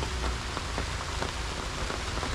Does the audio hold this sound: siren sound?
no